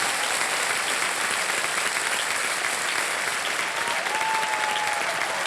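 Studio audience applause on a TV quiz show set, loud, dense and sustained clapping from a large crowd filling the whole stretch without pause, with no one talking over it.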